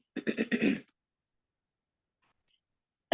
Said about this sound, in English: while you clear your throat